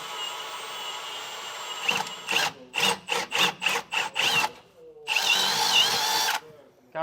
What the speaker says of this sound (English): So we'll go ahead and get all these pre-drilled.